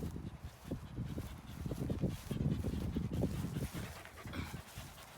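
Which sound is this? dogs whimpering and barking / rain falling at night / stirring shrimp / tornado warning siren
dogs whimpering and barking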